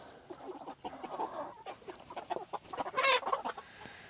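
Hens on a small-scale chicken farm cluck and murmur continuously in a busy chorus, with a louder, sharper squawk rising near the end.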